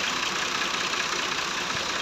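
A Massey Ferguson 240 tractor engine drives a water pump draining rainwater from flooded fields in Punjab, Pakistan, producing a steady, loud, close diesel drone with no break.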